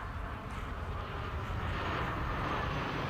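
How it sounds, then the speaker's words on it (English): Hawker Hurricane piston fighter and English Electric Canberra jet bomber flying together in formation at an airshow, a steady, loud continuous engine roar and rumble with no pauses. "These two types have never been seen flying together, the Hawker Hurricane and the English Electric Canberra."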